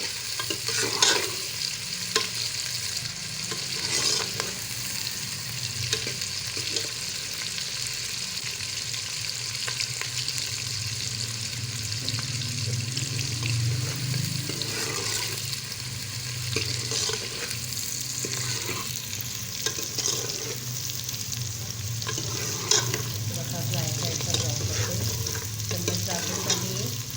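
Onions fry in oil until brown, a continuous crackling sizzle with frequent stirring scrapes, close and steady for the whole stretch.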